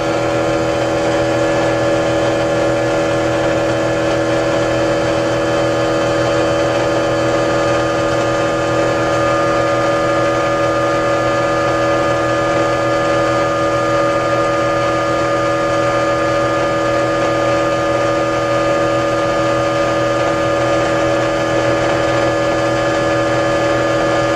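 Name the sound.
motor running under a load of 100-watt bulbs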